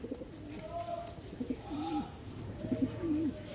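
Pigeons in a home breeding loft coo in repeated soft, throaty phrases, several birds close by over a steady background murmur.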